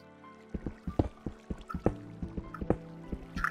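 Water drips in a Minecraft cave: a dozen or so soft, irregular plinks and drops, close but quiet, with brief gaps of near silence between them.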